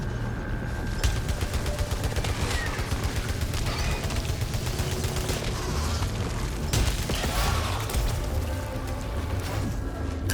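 Machine gun alternative fire in the PS5 shooter Returnal, a continuous rapid stream of loud shots with heavy booms mixed in, hammering steadily for about ten seconds.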